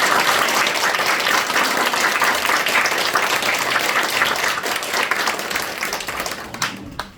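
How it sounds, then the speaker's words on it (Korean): A church congregation at a pastor's installation thanksgiving service claps together in dense, steady applause that tapers and fades out at the end. "박수해 주세요"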